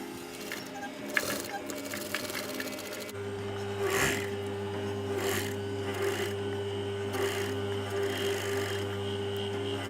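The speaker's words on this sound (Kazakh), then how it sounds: "Енді бұларды тігіп бастайық." Sewing machine stitching denim for jeans, a rapid mechanical rattle that starts and stops in bursts over a steady motor hum, fairly quiet and close, with faint handling noises between runs.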